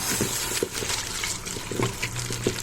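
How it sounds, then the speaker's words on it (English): Collard greens rinsed under a running kitchen tap, a steady close splash and trickle of water with small bursts as the leaves are moved, the flow continuing throughout without talk. "Okay, so I'm rinsing these off."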